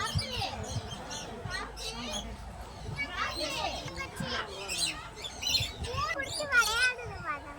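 Many birds chirp and squawk continuously at close range inside an aviary at a bird park in Trichy, a busy chorus of overlapping calls with some background voices.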